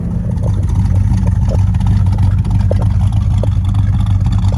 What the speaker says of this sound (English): She's running and idling.